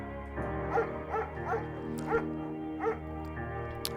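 A German shepherd barks in the video game Firewatch, about five short yips and woofs spaced across a few seconds over a steady tonal music bed.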